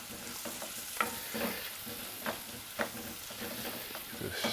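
Mushrooms sauté in melted butter with a soft, constant sizzle, broken by a few scraping stirs of a utensil against the pan.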